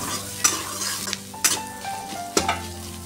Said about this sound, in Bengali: আলুর সঙ্গে মিশিয়ে ভালো করে নাড়তে থাকলাম